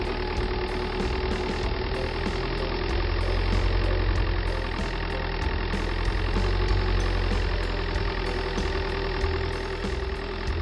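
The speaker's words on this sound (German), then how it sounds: "Der Traktor fährt an den Waggon ran, stellt sich auf das Gleis" A road-rail tractor idles and creeps toward a rail wagon, its engine a steady low rumble with a continuous mid-range drone, no talk, holding an even moderate level throughout.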